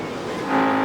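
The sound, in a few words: World of Outlaws sprint cars racing at Knoxville Raceway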